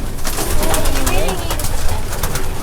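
Racing pigeons cooing around their loft as they come home, a close, steady layer of soft coos under someone talking nearby, with light rustling throughout.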